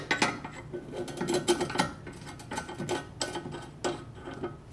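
A ball joint puller is slid into place on the front suspension of a Dodge Challenger during an Eibach suspension install, making close metallic clanks, scrapes and ratcheting clicks in irregular clusters with no voices.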